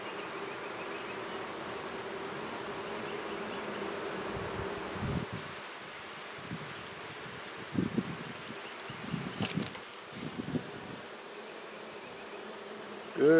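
Honeybees drone steadily inside a small hive, a close, continuous buzzing that holds throughout with a few soft knocks and handling bumps, and no talk.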